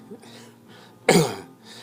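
A voice imitates an old man's cough: one sharp, raspy burst in the middle, preceded by soft breathy vocal noises.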